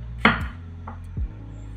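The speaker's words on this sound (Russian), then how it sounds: "Разрезаю пополам и нарезаю полукругом." A knife chops through cucumber on a cutting board in two crisp, close strikes about a second apart, with quiet pauses between.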